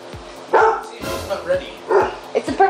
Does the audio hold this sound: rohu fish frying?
no